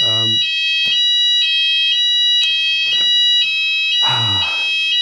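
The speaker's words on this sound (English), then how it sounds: "Fire alarm test." A loud, continuous high-pitched fire alarm tone rings steadily, with brief voice-like sounds breaking in at the start and near the end.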